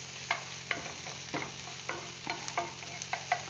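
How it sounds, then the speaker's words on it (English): Vegetables sauté in a pan for a bean soup, with repeated close scrapes and stirring taps over a low, steady sizzle and no talking. "You do not have to saute your vegetables,"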